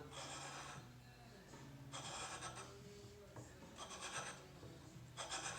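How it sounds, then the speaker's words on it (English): The back of a chisel is dragged across a wooden workpiece like a scraper, making soft rhythmic rasping strokes about every second and a half, faint and close, with a low hum underneath. "clean this up with the back of the chisel. I can basically use the chisel as a scraper."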